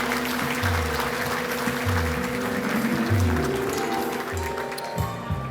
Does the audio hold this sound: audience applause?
yes